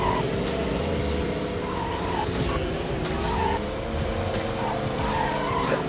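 A video game car engine drones while its tires squeal and skid repeatedly, loud and close, with the engine note wavering throughout and no talk over it.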